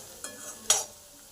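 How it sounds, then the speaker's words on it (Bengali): Onions in a pan give two quick stirring scrapes over a faint low sizzle, the second stroke louder and sharper, with no speech. "পেঁয়াজটা ভাজা ভাজা হয়ে গেছে"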